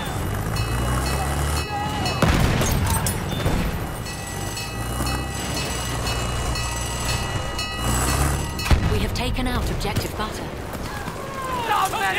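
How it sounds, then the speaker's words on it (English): Enemy artillery barrage in Battlefield 1, with heavy booming impacts breaking through a steady rumbling din of battle while a voice talks over the noise. "Wait for the enemy artillery barrage to stop firing."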